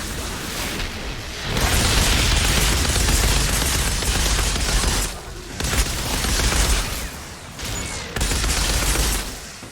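Auto shotgun blasts from the game Outriders in a dense, loud barrage of rapid shots, broken by two brief pauses before the firing resumes.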